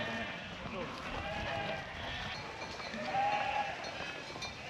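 A flock of sheep of mixed ages, including lambs and yearlings, bleats repeatedly on a farm, overlapping calls at moderate distance with soft background noise.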